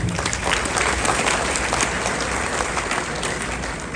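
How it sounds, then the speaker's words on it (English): An audience applauds for Khabib Nurmagomedov in Canada, with a full, steady wash of clapping from a crowd that is sustained and loud throughout. "Round of applause for Habib"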